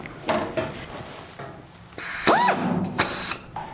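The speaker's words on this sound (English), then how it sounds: "That setup being a pneumatic angle grinder with a stubby threaded drill bit" Short bursts of a pneumatic tool whirring and spinning up, with a rising whine and mechanical clatter between bursts, close by.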